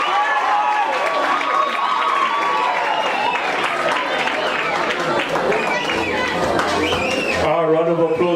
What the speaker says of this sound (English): Round of applause one more time, ladies and gentlemen.